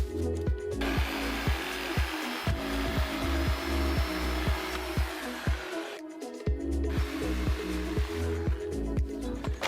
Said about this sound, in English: an old blade and a reciprocating saw should do the trick